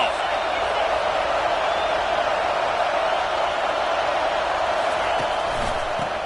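Dense, steady roar of a stadium crowd at a Tennessee versus Clemson college football game, loud and continuous for several seconds with no letup, a broad wash of many voices.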